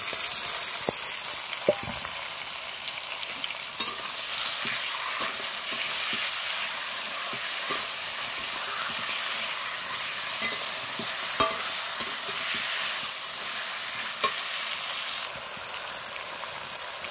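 Marinated chicken sizzles in a pot for biryani, a continuous close crackle with occasional sharp clicks of a spoon stirring and knocking against the metal, heard alone without talk.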